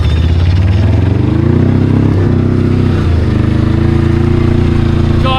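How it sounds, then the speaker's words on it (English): A non-turbocharged 700cc twin-cylinder diesel ATV on smaller, bald drift tires slides around, its engine a loud, continuous close-up drone that rises and dips in pitch as it revs. "A diesel drifting, a non-turbocharged 700cc twin diesel."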